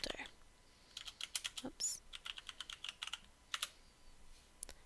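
Someone types a folder name on a computer keyboard in a quick, close run of light key clicks with brief pauses, and a voice briefly speaks partway through.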